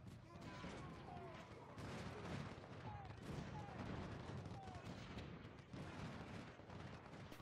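Artillery booms and volleys of musket fire in the Civil War battle game Ultimate General: Civil War, steady overlapping bursts throughout at a low, distant-sounding level.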